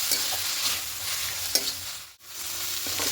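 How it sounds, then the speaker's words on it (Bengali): Taro leaves and grated coconut sauté in a pan with a steady, close sizzle and rhythmic scraping stirs, broken by a short pause near the end. "বাকি নারকেল কড়াটা দিয়ে দেবো এটা খুব ভালো করে একটু কষিয়ে নেব"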